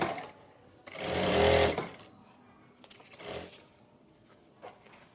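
A sewing machine stitches around the folded waistband of a farshi shalwar, one loud whirring burst of about a second followed by shorter, softer runs and pauses, close up with no talk.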